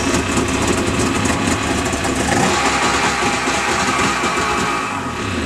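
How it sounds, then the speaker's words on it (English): A 1999 Yamaha SUV Waverunner personal watercraft engine runs on land with a loud, close, buzzing drone, holding a steady rough idle with a slight rev swell midway before easing off. "And just a brief start of the engine."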